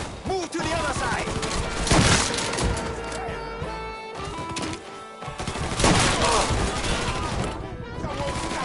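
Gunfire in a video game rattles in dense, rapid bursts that run almost continuously and loud, with heavier thuds and crashes mixed in.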